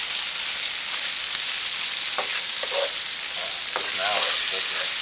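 Bacon sizzles in a pan with garlic and peppers, a dense constant frying hiss with occasional scrapes and clinks as the mix is stirred, close and unbroken by speech.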